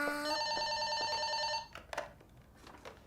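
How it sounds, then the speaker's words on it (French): A telephone rings indoors with a bright electronic bell tone held for about a second and a half, then cuts off, leaving quiet room noise and faint movement. "Maman, téléphone!"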